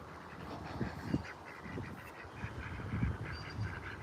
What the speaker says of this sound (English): Indian wooded ducks, that's what they're called.